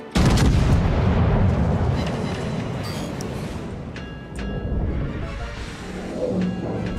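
Naval gun salvos boom repeatedly in a World of Warships battle, a loud, dense barrage at the start easing into rumbling gunfire and distant impacts, with battle noise running throughout.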